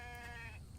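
A sheep in the survival video game The Infected lets out a short wavering bleat, faint against a low steady game background.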